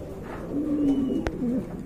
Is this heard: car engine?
no